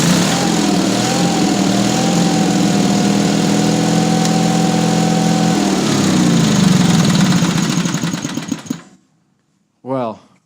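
An engine cranked over after its battery was recharged, running loud and steady with a droning, slightly fluctuating tone, then cutting off abruptly, followed by a short voice.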